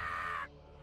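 A single harsh parrot squawk from the pirate-themed Freehold dungeon in World of Warcraft, close and sharp, lasting about half a second before cutting off to quiet game ambience.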